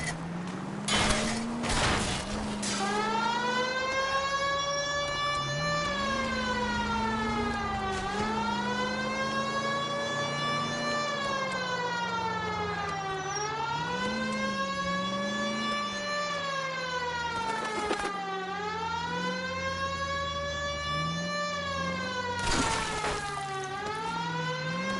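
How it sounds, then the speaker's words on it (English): A police car siren wails in the video game L.A. Noire, a loud sustained rising-and-falling tone sweeping steadily over and over for the whole stretch with an engine rumble beneath. "The siren."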